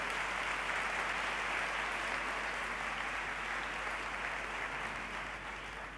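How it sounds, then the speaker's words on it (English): Continuous, even applause from a conference crowd clapping for themselves, a steady wash of many hands at moderate level, heard from a distance with a low hum beneath. "So please go ahead and applaud yourself."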